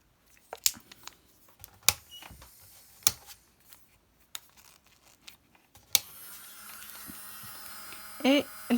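After a few scattered clicks and handling taps, an electric nail drill fitted with a large ball bit starts up to remove cuticles, giving a faint, steady buzzing hum that runs to the end.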